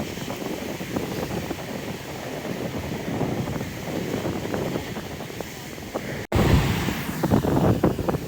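Sea waves breaking on a beach in Odesa, a continuous roaring wash with wind buffeting the microphone, growing louder after a brief dropout near the end.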